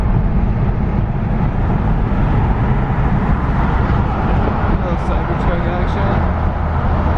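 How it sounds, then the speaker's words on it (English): Inside the cabin of a BMW G20 fitted with an AWE Track exhaust, a steady, loud low drone blends with road and wind noise, holding even throughout without distinct revs or voices. "how the AWE track exhaust sounds inside"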